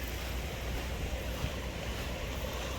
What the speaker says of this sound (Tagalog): Ingay ang alon.